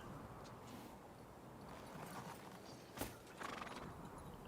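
Horse hooves clip-clop faintly at a distance in the medieval video game Kingdom Come: Deliverance II, with a soft neigh amid a low ambient bed and a sharper knock near the middle.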